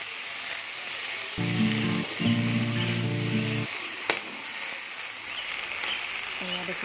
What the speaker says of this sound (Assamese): অলপ টাইম ভাজি ল'ম।